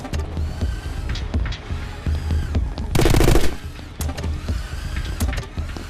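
Gunfire in the video game My Friend Pedro, with repeated sharp bursts of shots mixed with game sound effects and a loud, dense volley in the middle.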